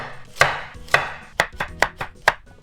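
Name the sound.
knife slicing carrot into pieces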